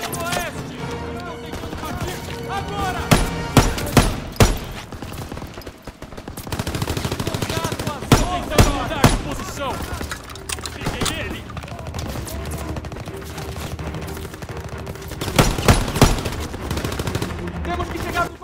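Gunfire in the Call of Duty WWII video game, with rapid machine-gun bursts and single shots cracking in repeated volleys over a dense battle din, while players talk throughout.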